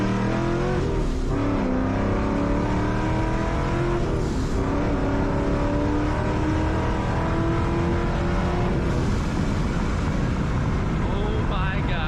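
Supercharged 2004 Mustang GT accelerating hard in second gear up to about 3,500 RPM, a loud, steady engine roar rising in pitch across the run, with people talking over it.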